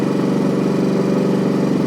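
A Honda lawn mower engine runs steadily up close, a loud continuous mid-pitched drone with an even, fast pulsing rhythm and no voices.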